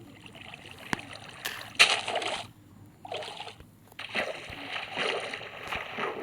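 Water in the Minecraft video game flows and carries an object along, heard as bursts of splashing and sloshing with brief gaps between them, moderately loud.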